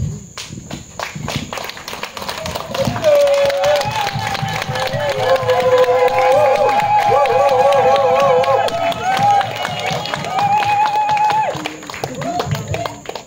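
A crowd at a family celebration in Kribi, Cameroon, stands and claps and cheers, with rapid scattered clapping throughout, voices and shouts rising over it in the middle.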